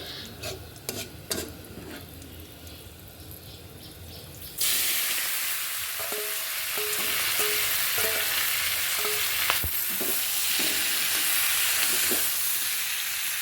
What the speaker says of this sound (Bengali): এবার আমি সবজিগুলো দিয়ে দিচ্ছি তেলের মধ্যে